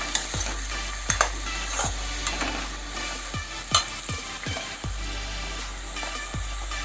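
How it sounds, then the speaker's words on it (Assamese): Spices stirred in a pan for a fried banana-stem dish made with khar: repeated spatula scrapes, close and fairly loud, over a steady oily sizzle, with no talking. "অলপ দেৰি লৰাই দিছোঁ"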